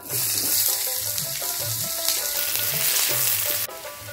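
Chopped onions and bay leaf frying in hot mustard oil, a dense continuous sizzle that cuts off abruptly near the end, with faint stepped melodic tones running underneath.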